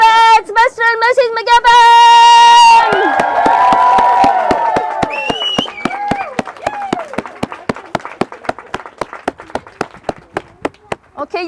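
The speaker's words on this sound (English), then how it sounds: "Give me a huge big Ayrshire cheer as I give you our newlyweds" Wedding guests at a church ceremony in Maybole, Ayrshire cheer and applaud the newlyweds, a loud burst of shouting that settles into sustained rhythmic clapping, with a voice calling out over the start.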